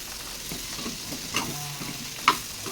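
Masala for a cauliflower gravy being stirred in a pan: a steady close sizzle with soft scraping and a couple of sharper clinks from the spoon against the pan.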